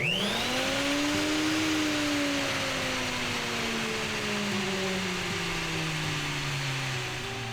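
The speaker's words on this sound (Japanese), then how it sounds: "これスイッチを入れると掃除機と連動して動く。" A workshop vacuum cleaner linked to a power tool, used for woodworking on a campervan build, runs loud and steady close by, its motor whine holding throughout with a slowly shifting pitch.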